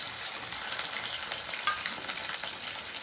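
Spices such as ginger paste sizzling in hot oil while being stirred, a dense continuous close frying hiss with faint scraping throughout, no voices.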